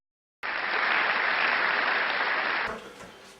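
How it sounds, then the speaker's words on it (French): A game-show audience claps in a dense, steady burst for about two seconds, then the applause quickly tapers off. "Applaudissements."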